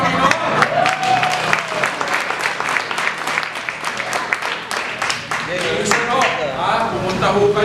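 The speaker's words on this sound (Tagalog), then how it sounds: "pumalakpak sa Panginoon." A church congregation claps during a Sunday service sermon, a steady crowd applause of many hands with scattered voices and cheers mixed in, loud and close throughout.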